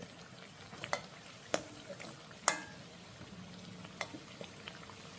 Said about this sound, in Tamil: சிரங்குட்டு வடை நல்லா பொங்கி கொண்டு வருது